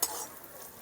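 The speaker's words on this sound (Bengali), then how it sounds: "ড্রাই ফ্রুটগুলো হালকা ভেজে নিলাম।" Chopped cashews, almonds and raisins fry lightly in a pan, a faint, steady sizzle with a brief scrape of stirring at the start.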